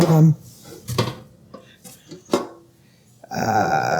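USA Pan metal bakeware, including a Pullman pan and its lid, is handled close up: several sharp metallic clanks and taps spread across a few seconds, ending in a sustained ringing scrape, with a voice talking briefly in between.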